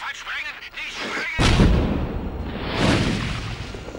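An explosion goes off in the video game Tomb Raider 3, a loud, broad boom that rolls and rumbles for several seconds after a brief stretch of game sound with a voice.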